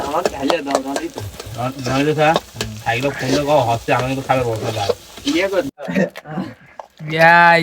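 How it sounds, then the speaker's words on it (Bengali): Noodles frying in a pan at a gathering, a continuous sizzle and stirring running beneath loud, lively talk from several people close by. "নুডুস ভাজা চলতেছে এখানে"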